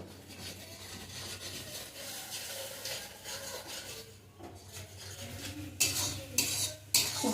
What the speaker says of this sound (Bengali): এখন মশলাটা বেশ কিছু আমি কষিয়ে নেবো